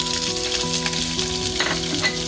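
Green chillies, garlic, curry leaves and onion sautéing in hot oil, a loud steady sizzle close up with light stirring, no voices.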